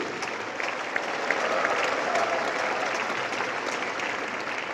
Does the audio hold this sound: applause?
yes